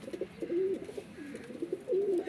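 A pair of pigeon brothers coo softly in repeated rolling calls while held in the hand, close and fairly quiet, with no talk over them.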